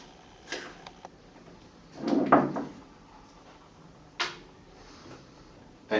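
A beacon's end cap is twisted off while the housing is held in a vise, giving a few scattered knocks and clunks, including a longer grinding scrape in the middle, with near silence between them.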